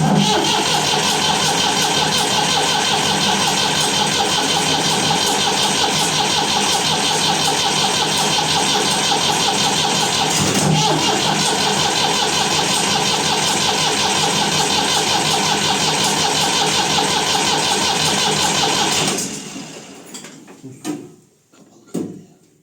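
A loud tractor engine runs steadily at close range, rumbling and rattling, then cuts off abruptly near the end, leaving a few faint clicks; its diesel filter connector had broken and the fuel filter and injector were just serviced.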